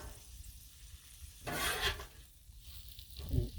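Shrimp frying on a Blackstone griddle, a soft close sizzle and brief scraping stir that rises for a moment midway, otherwise a low quiet hiss with no talking.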